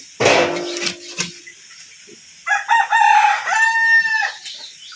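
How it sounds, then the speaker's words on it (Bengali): A rooster crows once nearby in a loud, rising and falling call, preceded by a sharp burst of clattering noise and a brief cluck-like sound. "মুরগি"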